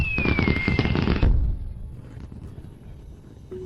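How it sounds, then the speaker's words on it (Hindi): Fireworks burst loudly in a dense crackling cluster with a whistling streak, then fade to a quiet, rumbling tail in the open air. "यह एक सुंदर आतिशबाजी है।"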